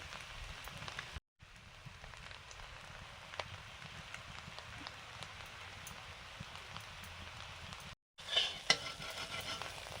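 Boiled chow mein being stir-fried in a pan with crumbled fried egg and potato: a soft, steady sizzle with light stirring scrapes and short silent gaps, quiet and close, with no voices.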